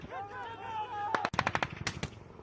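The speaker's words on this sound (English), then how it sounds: "You're taking heavy effective fire!" Heavy gunfire during a low-level Marine air support operation: a rapid burst of loud, close machine-gun shots in quick succession, following a shouting voice.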